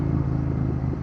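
A Royal Enfield Bear 650 fitted with a Red Rooster Performance exhaust idles with a steady, throbbing low thump, close and loud throughout.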